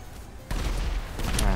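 Gunfire in a video game, a sudden burst of rapid shots after a quiet moment, loud and dense, continuing to the end.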